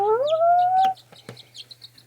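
Young chicken chicks call up close: one loud, drawn-out rising peep, then a scatter of short, quieter chirps and clucks.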